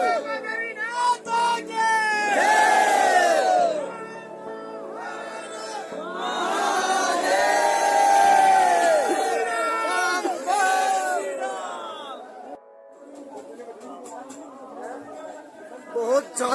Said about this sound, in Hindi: भीड़ बहुत ज्यादा है, कुछ समझ नहीं आ रहा